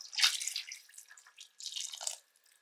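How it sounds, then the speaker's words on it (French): Water poured into a pot of Flemish carbonade (beef stewed in beer), a splashing, dripping pour in two bursts separated by a brief pause, close and fairly soft, with no talking. "Et je rajoute de l'eau."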